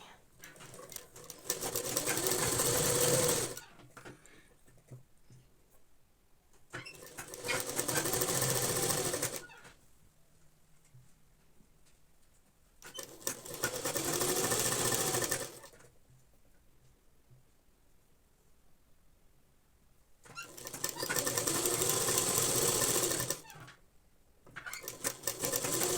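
A sewing machine stitches a boat-neck frock in four rapid whirring runs of several seconds each, separated by quiet gaps, close and without talk.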